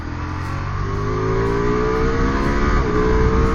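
A 2025 Ducati Multistrada V4 S motorcycle engine revving hard as the throttle opens, a loud, close, sustained roar climbing steadily in pitch over a few seconds with no talking.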